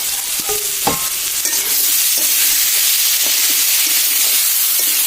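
Pumpkin bhaji frying in a pan gives a loud, close, continuous sizzle, with a few stirring scrapes early on and no speech.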